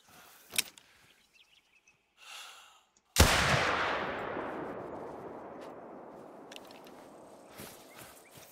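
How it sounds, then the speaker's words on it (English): A single loud hunting-rifle shot rings out in the Hunter Call of the Wild game while banteng are hunted, its sharp crack trailing into a long, slowly fading outdoor echo after some faint quiet rustling. "I'm gonna shoot that one in the butt."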